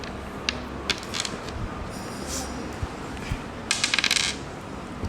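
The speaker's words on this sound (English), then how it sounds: "Now team A will roll the dice." Dice rattle and clatter on a surface during a zero-waste card game at a school, a quick cluster of sharp clicks over a noisy room with faint voices.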